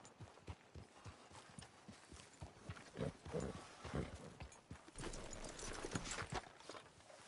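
Horse hooves clip-clop steadily in the video game Red Dead Redemption 2, a continuous close rhythm over a dense, busy in-game background.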